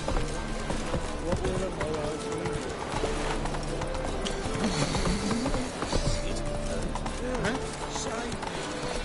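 Geralt's horse Roach galloping in The Witcher 3, fast rhythmic hoofbeats drumming steadily and close under game music and combat noise, with voices speaking over it.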